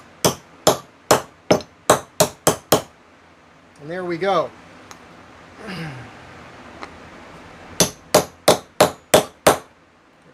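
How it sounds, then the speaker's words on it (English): A hammer taps a copper rivet into a vintage Occidental leather tool bag: two bursts of about seven to eight sharp, evenly spaced knocks, close and crisp, separated by quieter handling noises and a brief spoken remark. "Now I can tap this down with the hammer."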